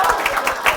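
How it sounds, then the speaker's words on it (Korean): A short burst of clapping from a class of sixth-grade students, a brisk patter of hands filling the room for under a second. "우리 서로 고생한 여러분들에게 박수 한번 쳐볼까요?"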